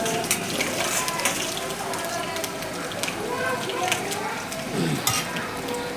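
Ginger, garlic and curry leaves sizzle and crackle in hot oil in a pan, a steady close frying hiss with occasional stirring, while someone talks over it.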